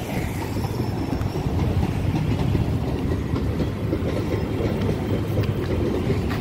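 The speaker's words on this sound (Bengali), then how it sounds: "এই দেখো ট্রেন আসছে, এই দেখো ট্রেন বেরিয়ে যাচ্ছে।" A suburban train pulls out of Dhakuria station in Kolkata toward Baghajatin, passing close by with a loud, continuous rumble and rhythmic clickety-clack of wheels that hardly varies across the whole stretch.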